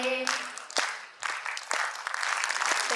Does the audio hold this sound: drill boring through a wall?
no